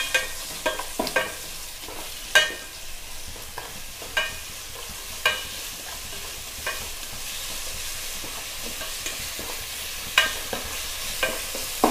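Onions frying in a pan for paruppu sambar are stirred with a spoon, giving a steady sizzle broken by sharp scraping clinks at irregular intervals, close and alone.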